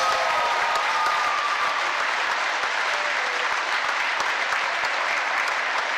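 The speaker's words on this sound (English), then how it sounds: "please give these kids and their parents a well-deserved round of recognition and applause" A crowd in a high school gym applauds on girls basketball senior night, honouring players and their parents. The clapping is steady, dense and sustained at an even level for the whole stretch, with no talk over it.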